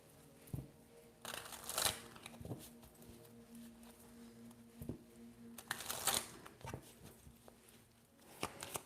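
A tarot card deck being shuffled gives off scattered riffles and soft slaps, with two longer bursts of crisp card flutter over a faint low hum, close and fairly quiet.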